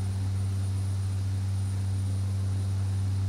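A King Air turboprop in X-Plane 11 flies over LaGuardia, a steady droning engine hum with strong low tonal bands, constant and close, with no talking.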